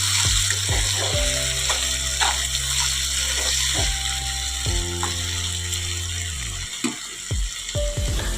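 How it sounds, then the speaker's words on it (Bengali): Green chillies fry in hot oil with salt, giving a steady loud sizzle with repeated scraping stirs across the pan throughout. "কাঁচা লঙ্কা দেখো ভালো করে ভাজা করছি"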